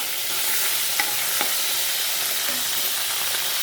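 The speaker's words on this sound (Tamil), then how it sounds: "இப்போ வந்து பூண்டும் வெங்காயமும் நான் நல்லா தாளித்து வச்சுருக்கேன். அதையும் இதில் போட்டு நல்லா வதக்கிக்கலாம்." Garlic and onion sautéing with mustard seeds in a pan, a loud, steady sizzle close to the microphone with a few faint pops and stirring scrapes, and no voices.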